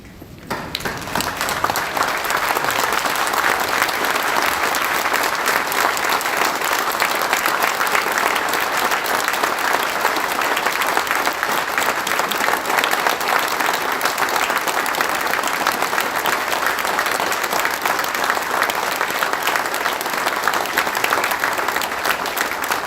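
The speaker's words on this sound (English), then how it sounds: "let's all stand and give this man the ovation he deserves" A standing ovation at a memorial service: a large crowd applauds steadily and densely, a thick unbroken wash of clapping that swells within the first second and holds at full strength to the end.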